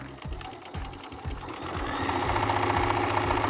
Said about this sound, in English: that is actually where I'm going to start sewing